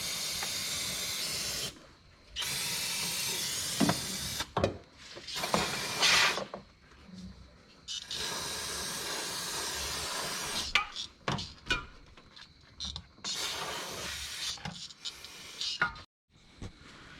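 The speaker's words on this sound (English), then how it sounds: "So now I'm gonna take some brake cleaner. Here I got some brake cleaner. I'm just gonna rinse it down." Brake cleaner sprayed from an aerosol can onto a Jeep Patriot CVT transmission, in long sustained hissing bursts separated by short pauses, loud and close.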